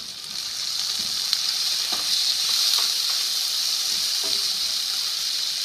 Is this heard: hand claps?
no